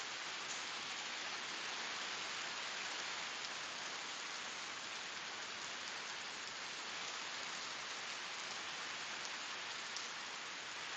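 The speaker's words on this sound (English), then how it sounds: "The rain is seriously hitting the tops of the tents." Heavy rain hammers steadily on tent tops during an overnight security shift, a dense unbroken roar of drops, close and constant with no pauses or voices.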